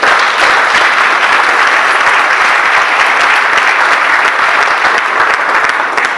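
A church congregation bursts into loud, sustained applause to acclaim the Lord, a thick, continuous roar of many hands clapping close and strong throughout.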